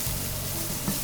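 Wild mushrooms cooking in a hot pan, giving a continuous gentle sizzle and crackle at close range, with a faint stir near the end and no voices.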